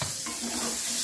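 Garlic and onion stirred while frying in pork fat in a pan, continuous loud sizzling hiss with faint scraping movement underneath.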